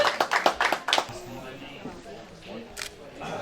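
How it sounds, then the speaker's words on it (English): Brief burst of applause from a small press conference crowd for a fighter, a quick run of claps in the first second that fades into murmuring room noise, with a sharp tap near the end. "give Shawn a massive round of applause"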